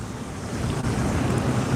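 Wind blows on a river bank during fly fishing, a steady, loud roar of gusty noise buffeting the microphone with no voices.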